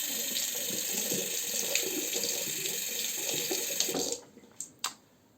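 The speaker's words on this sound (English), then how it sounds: "I will rinse the razor so you can see." A razor is rinsed under a running tap, a steady close rush of water that stops abruptly near the end, followed by a couple of sharp taps and knocks at the sink.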